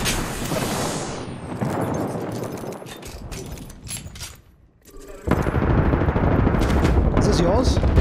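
Rapid gunfire and explosive blasts from the battle royale game Apex Legends, loud and dense at first, fading to a lull, then surging back as sustained heavy firing, with players talking over it.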